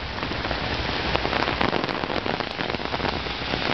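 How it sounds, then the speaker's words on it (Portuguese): Heavy rain pours steadily onto a street on Avenida André Cavalcante in Vila Regina, Itaquera, São Paulo, a dense, loud, continuous hiss of drops with no letup. "mostrando para vocês a chuva. Olha como tá forte."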